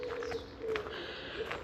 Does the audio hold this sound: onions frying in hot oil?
no